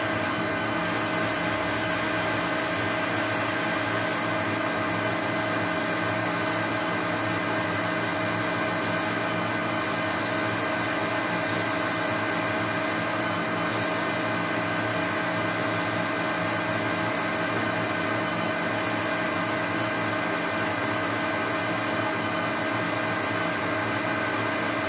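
Restored Harrison milling machine running at 430 RPM on a variable frequency drive, a steady close mechanical hum and whine that holds level and unbroken throughout.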